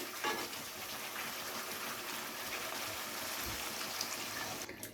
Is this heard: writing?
no